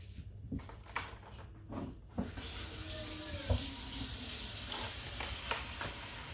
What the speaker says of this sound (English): Just gonna fill up my bowl with water and some cold water and dump my strawberries in.